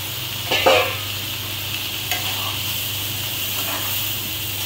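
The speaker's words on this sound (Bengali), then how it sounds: "3টা পেঁয়াজ কুচি ভাজা নিচ্ছি" Three chopped onions fry in a pan with a soft, even sizzle and hiss, broken by a few short scrapes of stirring near the start and middle.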